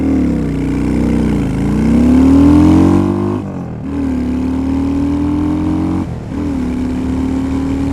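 A Honda Shadow 750 motorcycle pulling away from a stop, its loud engine rising in pitch through first gear, then dropping briefly at two gear shifts before climbing again, close and with no talking.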